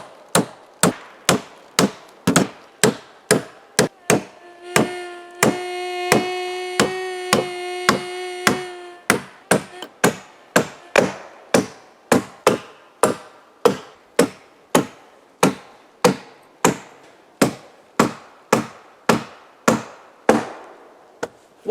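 Round logs are trimmed of knots with a Swedish-style forged axe, a long steady series of sharp, close chops about one per second, with a brief resonant ringing tone partway through.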